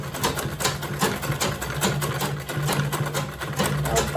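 A sewing machine stitches along a marked line on fabric for a zippered, lined makeup bag, its needle chattering in a fast, even rhythm with only small dips in speed.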